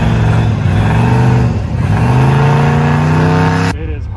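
A turbocharged car called Uncle Rob makes its first quarter-mile drag pass, its engine roaring loud and close with rising, layered harmonics as it accelerates. The engine holds strong for several seconds, then cuts off abruptly near the end.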